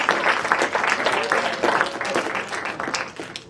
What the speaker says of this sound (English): Let's have a round of applause for Aiden.